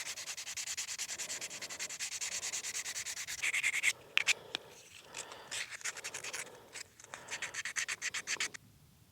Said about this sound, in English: So I'll probably do a little sanding on it as well, give it a nice smooth finish